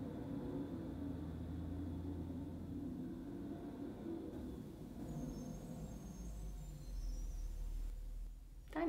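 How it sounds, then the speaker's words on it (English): Garbage truck rumbling outside, a steady loud low-frequency drone with engine hum that holds throughout and swells slightly near the end, no voices. "now that the dinosaur sounding garbage truck has moved along"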